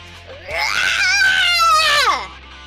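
A player shouts a drawn-out, rising-and-falling riot scream in a strained, high voice, about two seconds long and close to the mic, a voice imitation rather than a real riot.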